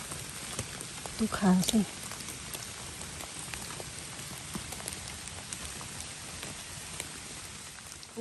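Steady rain falls on a rural hillside during wild mushroom picking, a constant soft patter throughout with someone briefly talking over it.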